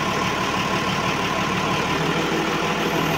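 A Massey Ferguson tractor engine idles at a well-drilling rig, a steady loud mechanical rumble with a constant hum that stays even throughout, with no voices.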